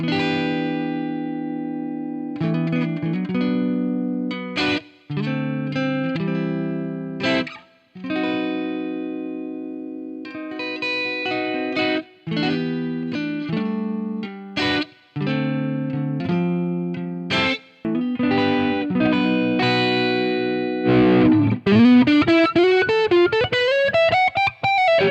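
Electric guitar played through a Softube Marshall amp plugin with the bass control turned up, giving thick, distorted chords and riffs in a steady phrase with brief gaps, ending in a sustained bending note that rises and falls.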